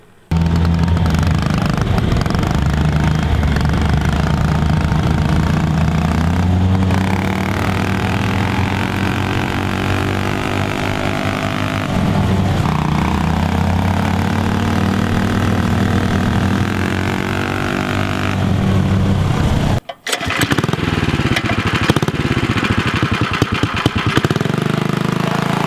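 A small engine on an MB-200 full-suspension minibike runs steadily during a test ride, loud and close, its pitch rising and falling as the throttle changes, with a brief cutout near the end.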